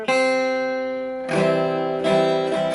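An acoustic guitar fingerpicks the intro of a song. One ringing chord decays, then two fuller plucked strums follow, close and clear, with no talking.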